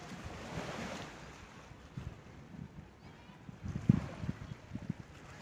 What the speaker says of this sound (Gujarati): ઓટ એટલે મોજા ઉછળતા નથી, શાંત દરિયો છે અત્યારે